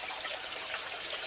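Water gravity-feeds from a 300-gallon aquaponics fish tank into a 4x8 deep water trough inside a hoop house, a steady, faint, continuous trickle and splash heard alone without talk.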